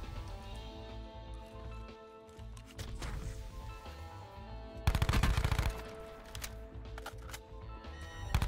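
Gunfire from a gun in Call of Duty Blackout, rapid bursts of automatic shots in several clusters, the loudest and densest burst in the middle, set against steady game background noise.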